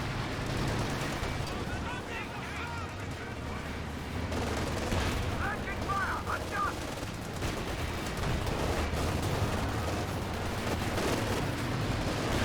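An artillery barrage in Company of Heroes 2, with a sector assault strike hammering the battlefield as a Panther tank fights nearby. Dense gunfire and repeated explosive booms roll on steadily for the whole stretch under a talking voice.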